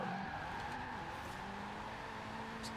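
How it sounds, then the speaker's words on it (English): A car drifts sideways in Forza Horizon 4, its engine holding a steady drone while the tires squeal in a long continuous slide. "Very easy car to slide, as you can see here."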